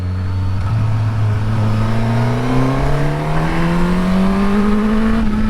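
A 2024 Suzuki GSX-S1000GX motorcycle accelerates hard, its engine note climbing steadily in pitch through the revs, loud and close, with no talk over it.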